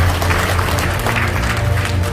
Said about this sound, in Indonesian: Ya, tepuk tangan buat Bapak Ibu semua.